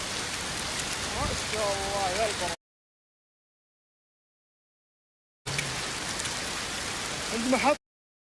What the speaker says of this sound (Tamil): சவுதி அரேபியாவில் கனமழை ஆரம்பம்.